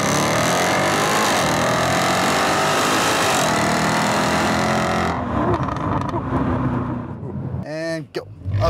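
A Jaguar F-Type SVR in sport mode launches from first gear on an uphill 0-60 mph run, its loud exhaust roaring steadily for about five seconds before the engine note drops away and a voice speaks excitedly near the end.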